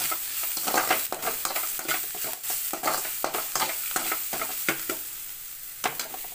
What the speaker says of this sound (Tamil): வெங்காயம் நல்லா வதங்கி வந்துடுச்சு.